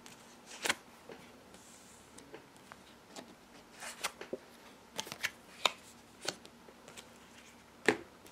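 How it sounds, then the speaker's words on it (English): Soft riffling and snapping of tarot cards being shuffled, a series of crisp flicks and taps at close range against a quiet background. "just shuffling the cards"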